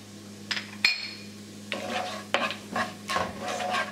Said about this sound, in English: So now I will let it saute for another 1 minute